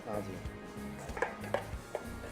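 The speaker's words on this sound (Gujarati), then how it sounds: "કાજુ એડ કર્યા પછી પણ એકદમ ધીમી ફ્લેમ પર હલાવતા એને શેકતા રહેવાનું છે" Cashews are stirred and roasted in a pan over a very low flame: a spoon scrapes and knocks against the metal, giving several sharp clinks and taps over a soft background.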